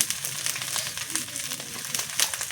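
Spice masala with turmeric frying in hot oil for a crab curry gives a close, steady crackling sizzle with small spits and pops, and some faint stirring.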